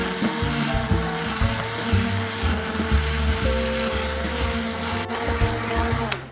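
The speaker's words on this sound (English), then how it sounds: "I've got a stick blender, so it's great because it means I don't have to transfer anything" Stick blender pureeing roast pumpkin and sweet potato soup right in the pot, a close steady motor whir with choppy pitch shifts as the blade churns the thick mixture, running throughout with no talk.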